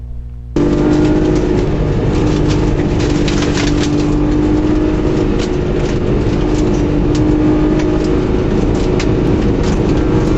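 A car accelerates along a straight section of a winding road after a turn, with a loud, steady engine drone and road noise rising right from the start and holding for about ten seconds.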